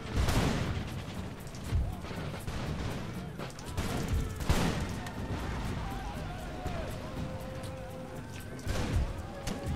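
Musket volleys in an Empire: Total War battle, with scattered crackling shots and several heavier fusillade bursts rolling through a noisy battlefield mix, under someone talking.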